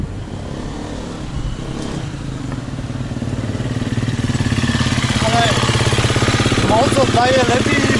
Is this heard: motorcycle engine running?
yes